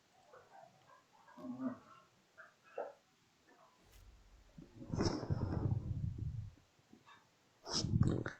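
Dogs playing nearby, with soft snuffling, heavy breathing and low rumbling bursts that come in uneven clusters between quiet gaps, loudest near the middle and end.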